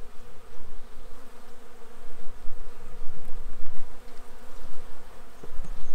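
Honey bees buzz steadily inside an opened hive during a rescue of a weak colony, a close, continuous drone with slight swells and no talking.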